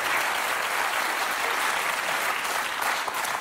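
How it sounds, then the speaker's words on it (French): Studio audience applause on a French comedy show, a dense, steady wash of many hands clapping at close range throughout, with no talk over it. "Applaudissements"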